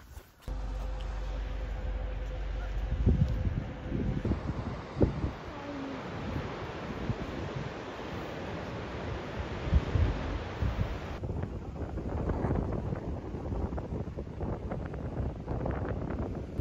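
Wind blowing outdoors in Melbourne, buffeting the microphone as a steady, loud rumbling roar with gusty swells that runs through the whole stretch, with no speech over it.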